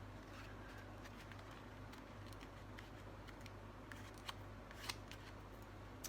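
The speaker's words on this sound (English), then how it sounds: "I think I'm just going to trim up that corner" Scissors trimming dried glue off a shadow box frame corner: a few faint, close snips over a quiet low hum, with a couple of sharper cuts toward the end.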